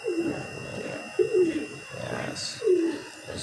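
Pet doves or pigeons coo close by in a home aviary with hatchlings, four soft rolling coos in a slow, even rhythm, with faint background noise between them.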